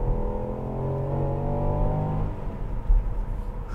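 Ford Puma ST Line X accelerating, heard from inside: a steady, humming engine and exhaust drone with rising tonal layers, then easing off into a lower rumble near the end, with no talk.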